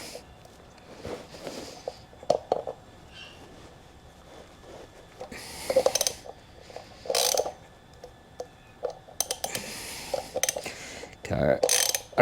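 A ratchet with a 13mm socket turns bolts on a pit bike, giving short bursts of fast clicking pawl sounds separated by pauses and small handling noises, close by without speech.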